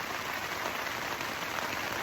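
Steady rain falls continuously and fairly close, a dense even hiss with no voices, heard from shelter at a cafe during a cycling tour from Picton to Bluff in New Zealand.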